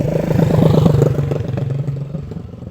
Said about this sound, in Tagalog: Grabe gid paka sa tingog sa iyang motor, anak.